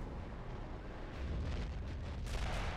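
Nebelwerfer rocket artillery firing in the game Men of War: Assault Squad 2, a sustained roaring, rumbling barrage of bursts and booms that grows louder near the end, with no talk over it.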